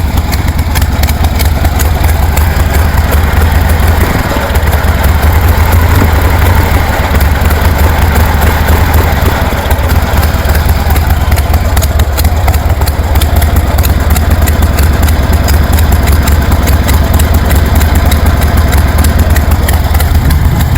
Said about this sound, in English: It's idling with the choke off.